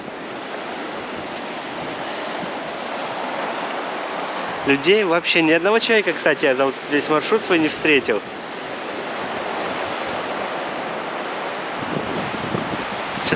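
Strong wind gusting over the open Crimean seaside near Ordzhonikidze, a steady loud broadband roar buffeting the microphone throughout, with someone talking through the middle stretch.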